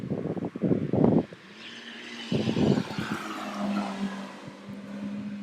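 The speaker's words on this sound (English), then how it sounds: "A Schumacher just drove past" A two-seat sports car with a powerful engine passes close by, its loud bursts of engine and tyre noise rising and falling, then settling into a steadier drone that fades away.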